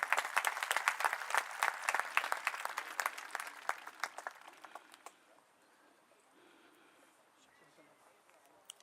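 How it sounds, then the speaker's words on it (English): Audience applause at a university event fills the first five seconds with loud, dense clapping, then fades to a quiet room with scattered faint claps. "Please give a huge round of applause."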